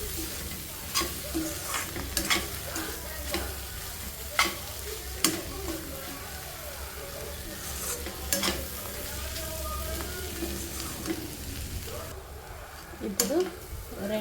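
Egg masala curry sizzling in a pan on high heat as salt is stirred through, with a steady frying hiss and repeated spoon clinks against the pan. A person talks over it.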